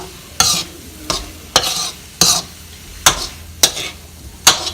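Vegetables for vegetable rice fry in a pan while a utensil stirs them, about seven loud, evenly spaced scrapes and clanks over a constant low sizzle.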